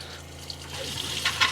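Water runs from a tap into the feed of an iSpring RO5004F reverse osmosis filter system in a camper, a steady close hiss and splash with no voices.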